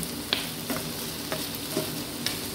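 Meat for a kudu sandwich fries in a pan with a constant crackling sizzle, punctuated by several light scraping stirs at an uneven rhythm, close and clear.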